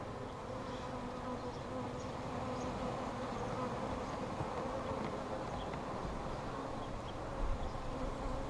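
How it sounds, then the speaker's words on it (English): Dense, steady buzzing of many honey bees in a top bar hive, a constant droning hum that holds unbroken throughout with no voices. "bees usually do a lot better in top bar"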